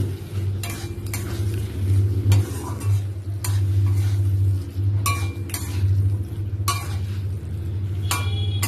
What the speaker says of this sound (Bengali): এবার সেদ্ধ করা চানাটা আমি দিয়ে দেবো দিয়ে কষাবো